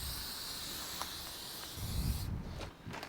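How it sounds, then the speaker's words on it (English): A steady, close hiss of an aerosol spray paint can marking lines on the ground at a construction site, with a brief scuffing shift near the end as the spray pauses. "Just starting to spray my lines on for the footends."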